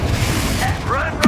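Confringo fire spell in Hogwarts Legacy gameplay: a short whooshing swell that ends in a sharp booming burst near the end, loud and close, over faint game ambience.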